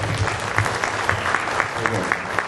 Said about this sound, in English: Everybody, a round of applause for that, right?